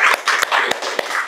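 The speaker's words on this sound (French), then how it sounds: "Là, encore, on l'applaudit, parce que vraiment" An audience at a village heritage day in Grignols applauds Madame Borde, a short burst of loud, close, irregular clapping from a small crowd.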